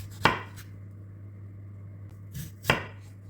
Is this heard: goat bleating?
no